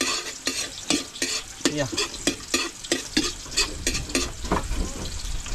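Garlic sautéing in a hot pan for chicken sayote, a steady loud sizzle with repeated scraping and stirring strokes close up, and a brief voice speaking once.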